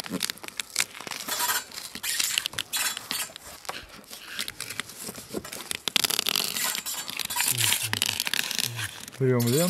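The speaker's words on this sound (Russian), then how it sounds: "Берем ленту и начинаем." Insulating tape torn from a roll while sealing joints on a timber-beam house, a run of crackly tearing and rustling bursts through the clip, fairly close and steady, with a brief voice near the end.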